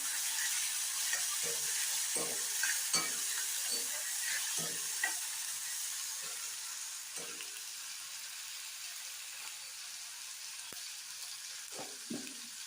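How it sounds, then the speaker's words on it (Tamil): Fennel seeds and tomatoes sautéing in a pan for a mushroom gravy make a quiet, steady hissing sizzle, broken by occasional soft knocks of a stirring spoon. "சோம்பு பொறிஞ்சோடனே தக்காளி சேர்த்துக்கலாம் தக்காளி நல்லா ஆகி வரட்டும்"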